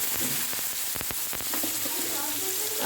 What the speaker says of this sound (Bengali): এখন আলু ভাজা করছি